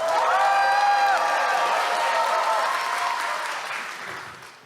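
An audience bursts into loud cheering and applause, with whoops and shouts rising above the clapping early on before the noise gradually fades away.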